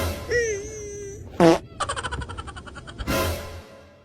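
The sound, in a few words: fart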